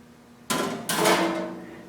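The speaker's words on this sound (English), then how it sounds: "and then I hammer it over" Two sharp, ringing hammer blows fold over the hemmed edge of an aluminum sheet for a 1937 Studebaker body, the second following closely after the first and each decaying with a metallic ring.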